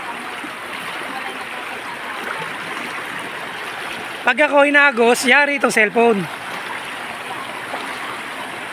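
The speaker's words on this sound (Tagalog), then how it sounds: "yung agos ng ilog" A strong river current rushes over stacked stones in a clear river at San Jose, Nueva Ecija, a steady broad wash running throughout while someone speaks briefly over it midway.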